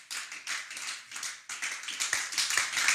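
A church congregation applauding for Jesus during a French-language sermon, a dense room-filling clap that swells and keeps going with scattered taps, no voices over it.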